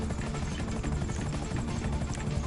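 A video game helicopter drones steadily with a low rotor thump and engine whine, constant and fairly close, with no speech.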